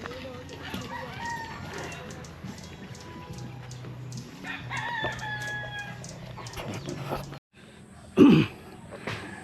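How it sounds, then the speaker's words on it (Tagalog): Gamecocks kept for cockfighting, with dogs nearby, in a rural yard near houses; a short, loud rooster crow rises late over steady ambient noise and faint background sounds. "May mga aso, may mga manok pang sabong."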